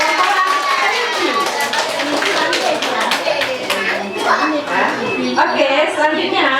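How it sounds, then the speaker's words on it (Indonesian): Kindergarten children clap their hands for a classmate group playing rabbits, a lively patter of small hands mixed with children's chatter and an adult voice talking over it in a busy classroom. "Oke, tepuk tangan buat orang kelinci"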